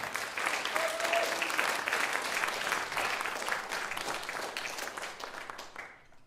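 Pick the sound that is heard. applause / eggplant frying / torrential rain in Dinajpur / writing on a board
applause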